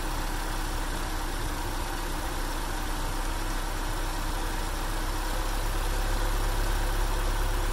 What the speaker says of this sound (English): I just wanted to demonstrate how just moving the distributor can affect your idle.